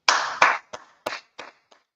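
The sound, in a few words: clapping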